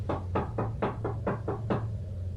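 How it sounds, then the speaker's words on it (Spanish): Seven even knocks rap on an apartment door in a quick steady rhythm, sharp and close over a low constant hum. "Había dejado la puerta abierta a sus espaldas y alguien parecía tocar."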